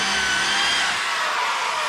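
A drill bit grinding and sawing through a 180,000 psi steel bolt, a loud, steady, close-up metallic whine with no pauses.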